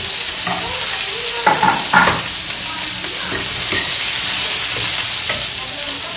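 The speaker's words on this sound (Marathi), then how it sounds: "आलं, लसूण, टोमॅटो, कांदा टाकलेला आहे. जिऱ्याची फोडणी दिलेली आहे याला." Onion, tomato, ginger and garlic fry in a cumin tempering, giving a loud, steady sizzle and hiss close up, with a few stirring scrapes in the pan.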